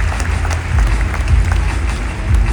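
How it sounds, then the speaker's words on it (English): An audience at a pharmacy conference claps in a dense, steady burst of applause, close and lively throughout the short moment. "Let's give a big round of applause, everybody."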